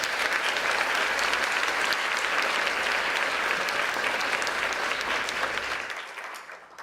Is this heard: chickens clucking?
no